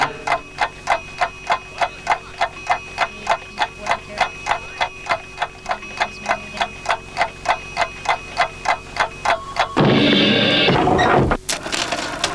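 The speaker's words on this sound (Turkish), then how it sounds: "Bir saat sesi geliyor ama nereden?" A clock ticks steadily and loudly, about two even ticks per second, in a children's cartoon scene, then a sudden burst of noise cuts in near the end.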